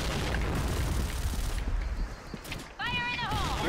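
A grenade-style bomb thrown in an online shooter game bursts with a loud, broad boom in the first second and a half, followed by rumbling game noise and rising electronic tones near the end.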